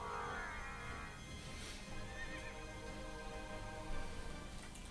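A horse whinnies in a video game, a drawn-out high neigh near the start, set against a steady ambient game background with no talk.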